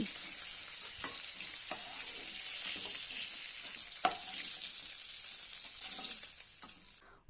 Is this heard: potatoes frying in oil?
yes